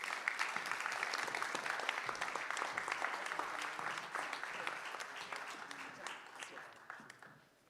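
Sustained audience applause at the Premio Ozieri Sardinian literature award ceremony, a dense even patter of many hands that holds steady and then fades away at the end.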